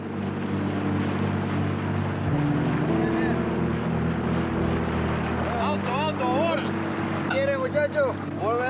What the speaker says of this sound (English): circles the boat in the darkness